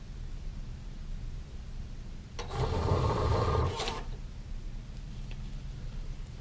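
A P20 printer runs off a settings listing, giving a brief whirring, rasping burst of a second or so over steady background hiss.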